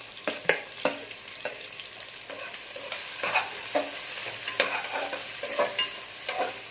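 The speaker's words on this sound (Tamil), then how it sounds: "இது நல்லா வதங்கட்டு வெங்காயம் நல்லா வதங்கிருச்சு" Garlic and onion sauté in a pan with green chilli for a prawn pulao, giving a steady close sizzle broken by repeated scraping stirs of a spoon against the pan.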